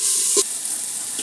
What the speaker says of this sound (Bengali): এবার নাড়াচাড়া দিয়ে 5 মিনিট মতো কষিয়ে নেব